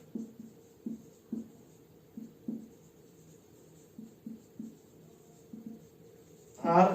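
Pen or marker strokes tap and scratch across a board in short, irregular bursts, faint and close in a quiet room, ending with a louder rustle.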